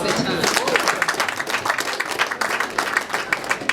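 Wedding reception guests clap together in a lively, sustained burst of applause that rises and falls in waves, with the crowd's voices heard underneath.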